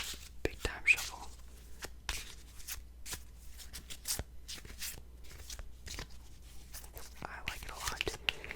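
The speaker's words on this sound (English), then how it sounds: "Or you can do a little bit more of a big time shuffle." A deck of playing cards is given a fuller shuffle up close, a run of crisp riffling snaps and soft rustles in quick irregular bursts, with faint whispering underneath.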